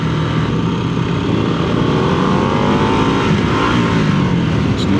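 Harley-Davidson Nightster motorcycle with a rorty exhaust revving loudly and steadily at close range during a test ride at a festival, engine note held continuous with slight rising pitch sweeps and no talk.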